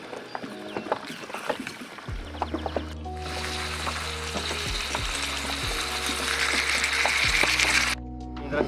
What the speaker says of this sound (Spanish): Cuando una vez que el aceite está caliente, vamos a poner los riñoncitos a sellar.